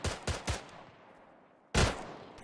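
Rifle shots in a video game room-clearing scene: three quick loud reports, a reverberant decay, then one more close, sharp shot.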